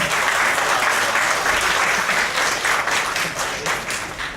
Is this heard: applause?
yes